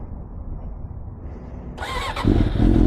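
A sport motorcycle, a GSX-R 600RR or Daytona 675, starts up after a low background rumble, catching with a sharp burst and then settling into a loud, close idle.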